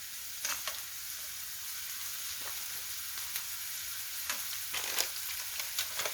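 Potato samosa filling with cashew nuts being stirred in a frying pan, a soft continuous sizzle broken by repeated light scraping strokes of the spoon, quiet and close, no voices.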